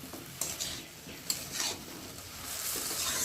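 A spoon stirring papaya shukto in a pan, with a few sharp scrapes and clinks against the metal over a soft, steady sizzle, close and fairly quiet, no talking.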